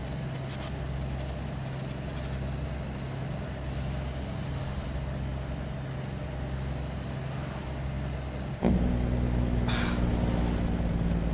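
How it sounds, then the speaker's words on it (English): Heavy truck engine brake on the road, a steady loud low rumble with cab drone that jumps sharply louder near the end, the pulsing exhaust bark continuing alone without voices. "A jake brake that sounds that good."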